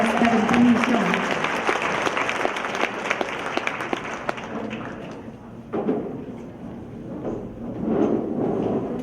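Audience applause at a live evening show welcoming an artist to perform: dense, loud clapping for about four seconds, then thinning and tapering into scattered claps and crowd murmur.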